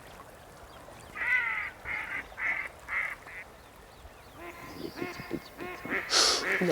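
Several ducks give a run of loud, rhythmic quacks as an alarm call, evenly spaced bursts at first, then a busier flurry of calls and wingbeat-like noise as the birds take off, with no talk over it.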